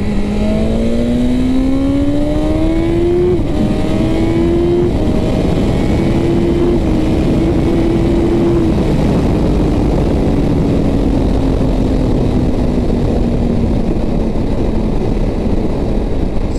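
A BMW S1000RR M Package motorcycle accelerates hard, its engine pitch climbing and dropping through several quick gear shifts under heavy, constant wind roar, loud and close.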